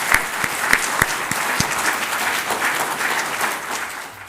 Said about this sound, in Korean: 박수 한번 해드립시다.